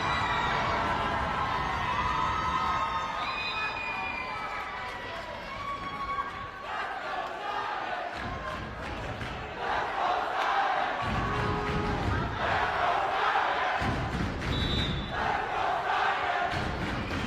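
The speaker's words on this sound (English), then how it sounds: "The Bronx Science crowd getting alive for Teresa Wang on serve" Bronx Science fans at a girls' volleyball title match cheer and shout in loud waves that swell and ebb, with an announcer's voice running over the crowd noise.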